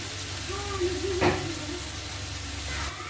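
Brinjal (eggplant) fries in a pan with turmeric and salt for a home dinner, a steady close sizzle broken by a brief clatter of stirring.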